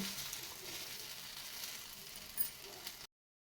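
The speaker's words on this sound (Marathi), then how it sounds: "असा पराठा दाबून दाबून दोन मिनिट भाजून घ्यायचा आहे" A wheat-flour and egg paratha roasts on a pan with a faint, even hiss. A few small scrapes sound as it is pressed down, and the sound cuts off abruptly near the end.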